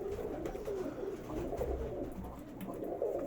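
Pigeons in a loft cooing in repeated soft, low, throaty phrases, several birds overlapping close by against a dull background rumble.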